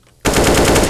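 Rapid automatic gunfire in the CS:GO video game bursts in abruptly after a short quiet moment, a loud, dense, continuous stream of shots.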